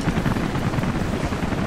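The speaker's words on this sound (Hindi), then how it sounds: "चॉपर की आवाज़ आ रही है, हेलीकॉप्टर यहीं कहीं आसपास में उड़ रहा है क्या?" Helicopter flying nearby in the video game Rise of the Tomb Raider, a steady low rotor drone with rumbling, chopping texture, fairly loud and continuous with no talk.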